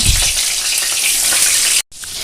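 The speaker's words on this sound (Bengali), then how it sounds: "এখন আমি মাছের মাথাগুলোকে আস্তে আস্তে করে ভেজে নেব" Hilsa fish heads fry in mustard oil, giving a loud, steady, close hiss with a brief cut near the end.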